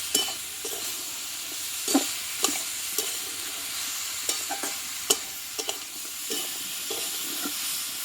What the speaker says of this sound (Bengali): মশলার সঙ্গে কিন্তু আরও তিন থেকে চার মিনিট মতো খুব অল্প আছে বন্ধুরা কষিয়ে নিতে হবে